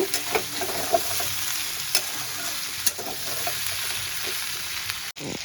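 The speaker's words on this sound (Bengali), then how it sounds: "শুধু আমি ভেজে তুলে নেব একটু লাল করে ভেজে নেব" Prawns frying in a pan with a steady, dense sizzle throughout, broken by a few faint stirring knocks, close and fairly loud with no voices.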